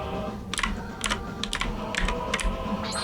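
A computer keyboard is struck in quick irregular clusters of keypresses while a game plays, crisp and close over steady background music.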